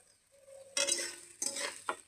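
Semolina is dry-fried and stirred in a pan, heard as a few quiet, gritty scraping strokes, three short bursts in quick succession against a near-silent background.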